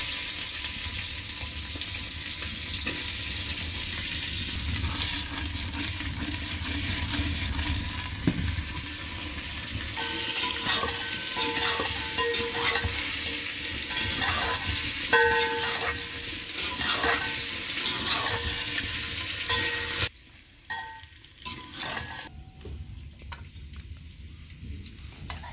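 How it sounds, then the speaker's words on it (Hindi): Lotus stem (nadru) and radish fry in reused oil in a kadai, giving a steady close sizzle with stirring and scraping clatter throughout, then a brief drop in the sizzle before it resumes more faintly. "पहले नदरों को अच्छी तरह से फ्राई करेंगे,"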